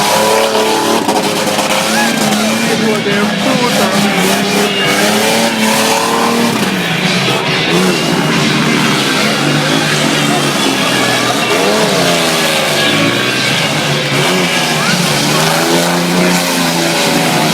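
A BMW motorcycle engine revs hard at a moto fest show in Ilha Solteira, with a loud, steady roar rising and falling in pitch over a busy crowd and announcer chatter.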